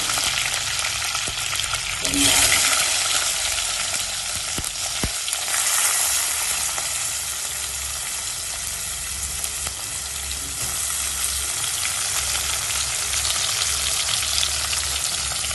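Garlic and spices fry noisily in a pan for a Jaffna-style fish curry, with a dense continuous sizzle, occasional stirring scrapes and clinks throughout, and no talking.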